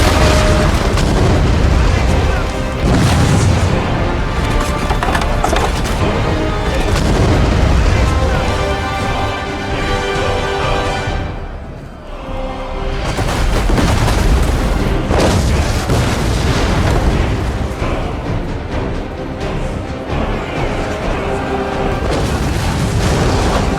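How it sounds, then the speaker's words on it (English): Burgundian cannons in a Total War battle firing on a Swiss pike square, a steady barrage of heavy booms and blasts layered over roaring battle noise, loud and dense with a brief lull midway. "he fired his cannons towards the Swiss pike square"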